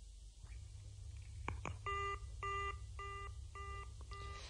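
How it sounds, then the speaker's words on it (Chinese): A telephone handset plays a busy tone after the caller hangs up: evenly spaced short beeps repeating steadily over a faint low hum, quiet and tinny as if heard through the receiver. "话筒里是一片盲音"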